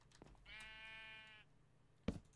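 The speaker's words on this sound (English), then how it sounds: "Come here, baby sheep." A sheep in Minecraft lets out a single clear, drawn-out bleat of about a second, fairly faint, followed by a short sharp click-like sound.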